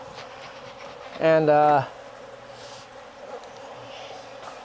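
Honey bees at an open beehive in Jacksonville, Florida, with a brief loud buzz as one flies close past, then a softer steady hum from the colony, and a person speaking a word.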